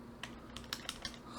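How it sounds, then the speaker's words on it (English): Fingers tap a computer keyboard in a handful of quick, light keystrokes, close and fairly quiet over a faint steady hum. "So I turn it off the software, okay, and now I can type."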